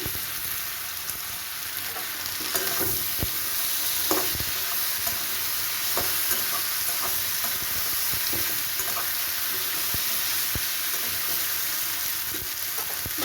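Steady, busy sizzling of okra frying in a pan, with occasional clicks of stirring, continuous and close throughout.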